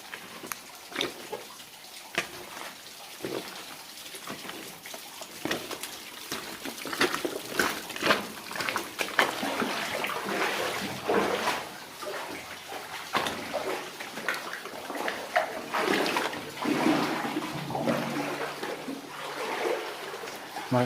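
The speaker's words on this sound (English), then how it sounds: "water dripping everywhere" Water drips and trickles steadily all around inside an abandoned tungsten mine tunnel on a deserted island, with scattered splashes and a wet, echoing wash throughout.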